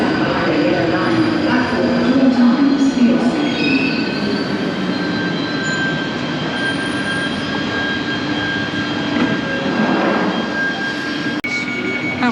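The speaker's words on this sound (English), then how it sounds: "the train was arriving just as I arrived" A London Underground train pulls into a station with a loud, continuous rumble and a high, sustained wheel squeal, growing steady as it arrives close by, with faint voices in the background.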